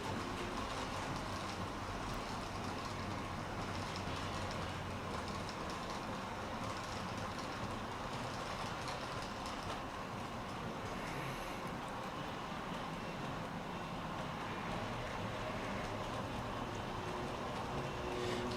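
Disneyland Railroad train ride, a steady broadband rumble of the rolling train with faint rail clatter, continuous and even in level throughout, with no talk.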